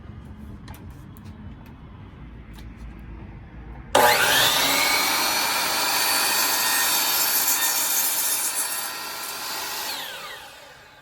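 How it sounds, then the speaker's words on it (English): A DeWalt DWS779 miter saw makes a first cut through a piece of cedar: quiet handling noises, then a sudden loud whining motor and a steady rasping cut for about six seconds before spinning down. "I'm gonna make my very first cut on my new miter saw"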